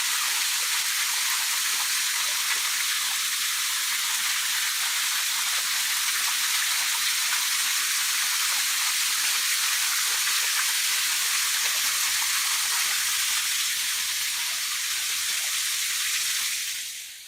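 Creek water in the Red River Gorge flows through a cool little creek valley, giving a steady, close, broadband rushing wash that continues evenly without a break before trailing off at the very end.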